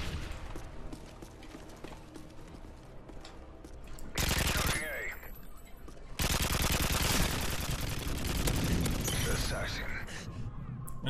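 PKP Pecheneg machine gun firing in the video game Modern Warfare 3, loud sustained automatic bursts with a short lull between them, heard over player talk.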